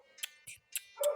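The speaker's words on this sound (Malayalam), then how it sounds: "ഈ നായ എൻ്റെ അടുക്ക് സൗണ്ട് ഉണ്ടാക്കുന്നേ" A dog in a video game gives four quick, faint yips or barks, evenly spaced in a short burst.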